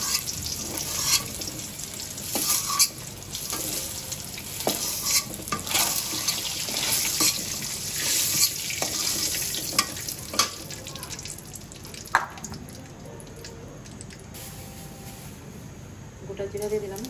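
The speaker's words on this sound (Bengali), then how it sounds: "হালকা হালকা করে ভেজে নিব।" Eggs with turmeric frying lightly in a pan in a home kitchen, a soft continuous sizzle with occasional stirring clicks and scrapes, fading gradually toward the end.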